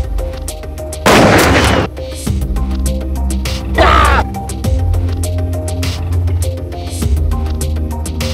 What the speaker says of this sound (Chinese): 我开枪了。